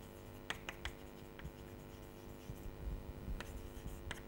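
Chalk or marker tapping and scratching on a board during a logic lecture, faint, irregular strokes and taps over a quiet room hum.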